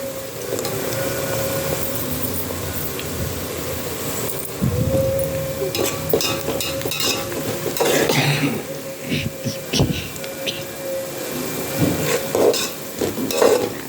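Chopped onions, curry leaves and green chillies sautéing in a hot pan, with steady sizzling and occasional stirring scrapes, plus a brief cough partway through.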